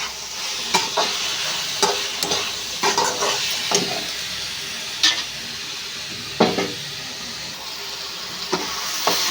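Eggplant curry frying with a spoon of turmeric and chili powder, a steady bright sizzle broken by regular spoon scrapes and stirs against the pan, close and fairly loud.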